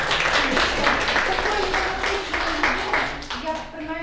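A crowd applauding at an award ceremony: continuous dense clapping that holds steady across the whole stretch, with voices audible over it.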